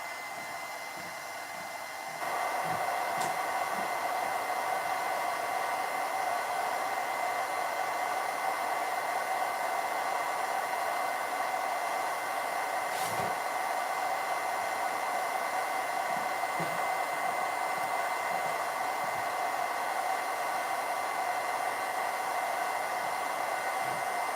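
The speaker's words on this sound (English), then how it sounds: "this is drying with my heat gun" Heat gun drying soft matte gel on a tall, slim collage, blowing a steady, even hiss that starts after a brief quieter moment and continues unbroken, with a couple of faint knocks.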